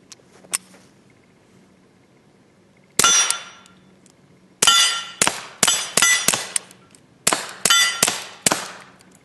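Rapid fire from a Ruger SR22 .22 pistol: a lone shot, then quick strings of sharp cracks, roughly a dozen in close succession, loud and near with no talk.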